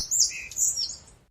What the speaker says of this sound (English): Is it some birds or something?